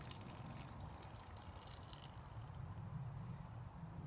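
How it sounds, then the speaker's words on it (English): Water is poured out of a bowl onto grass outdoors, a steady close gushing and splashing that runs unbroken without talk. "Okay, I'm pouring the water out."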